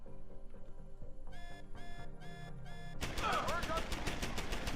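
A turret's machine gun in Deus Ex: Human Revolution fires as a rapid, loud automatic burst that swells into dense, continuous gunfire over game music and sound effects.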